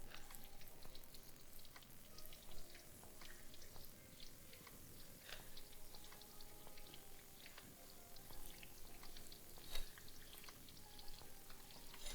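Boiled sweet potato dropped into hot ghee for sweet potato halwa, giving a steady soft frying sizzle with scattered light crackles and stirring clicks, close and moderately quiet, with no talking.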